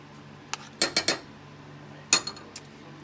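Spoon scraping and clinking against a pot of thickening homemade Play-Doh, a handful of sharp metallic knocks in two small clusters, close and fairly loud over a quiet background.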